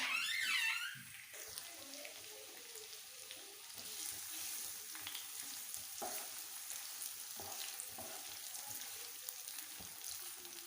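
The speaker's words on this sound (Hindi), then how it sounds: "प्याज को हम थोड़ा सा ब्राउन कर लेते हैं।" Onions hit hot oil for a masala bhindi dish, a faint crackling sizzle with occasional spoon taps, steady and quiet after a brief louder opening.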